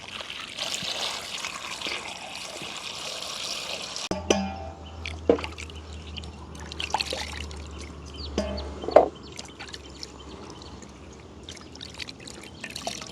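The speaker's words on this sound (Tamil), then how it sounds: "இனி நல்ல வடிவாக நாங்கள் கழுவி எடுக்க போகிறோம்." Peeled carrots are rinsed by hand in water, with trickling, splashing and dribbling sounds in short bursts; a rooster and hens cluck faintly in the background and a low hum enters partway through.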